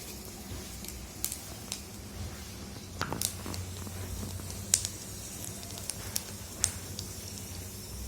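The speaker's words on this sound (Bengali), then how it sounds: "এরপরে ফোড়নের জন্য শুকনো লঙ্কা আর কালো জিরে দিয়ে দেব" Dried red chilies and nigella seeds hit hot oil in a pan, giving a faint, irregular sizzle with scattered soft pops and crackles, close and quiet, with no talk.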